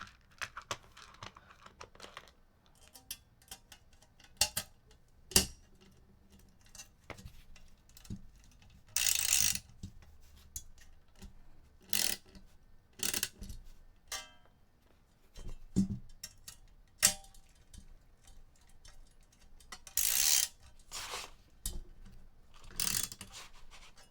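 A ratchet socket wrench clicks in short, repeated bursts of rapid pawl ticks, close and moderately loud, separated by quieter handling noises, with no speech.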